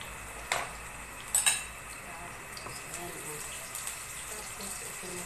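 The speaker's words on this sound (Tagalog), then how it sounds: "ipababad natin sa tubig" Water poured and splashing into a container to soak bihon rice noodles in a home kitchen, a steady running wash with a few sharp clinks of dishes or utensils.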